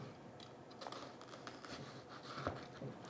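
A kitchen knife makes soft, quick tapping and crisp crunching sounds while slicing through an onion on a cutting board, the faint strokes coming in uneven bursts in a quiet room.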